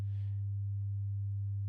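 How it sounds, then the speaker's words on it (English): A steady sine wave test tone holds a single low pitch throughout, loud and unbroken, with a faint brief hiss near the start. "Let's go back to the sine wave, just so you can hear the difference"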